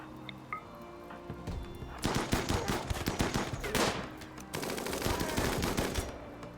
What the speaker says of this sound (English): Hit him with the old minigun.